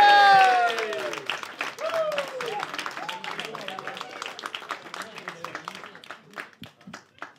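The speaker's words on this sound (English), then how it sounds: "Nice clap, whoop cheer, make some noise," A comedy club audience claps and whoops, starting with a loud burst of cheering that settles into sustained dense applause and then thins out near the end.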